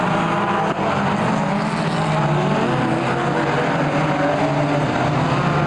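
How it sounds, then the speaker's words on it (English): Cosworth-engined midget race cars in a close battle at Kihikihi Speedway, a steady loud engine roar that holds throughout without breaks. "Cosworth versus Cosworth as they go through Rodeo, getting very close to tipping wheels there"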